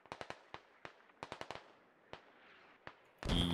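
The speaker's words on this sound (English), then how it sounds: "And more mortars coming out" Mortar shells land in the military shooter Squad as a ragged series of sharp, distant-sounding cracks and thumps, about a dozen spread unevenly, ending in a louder, closer roaring blast.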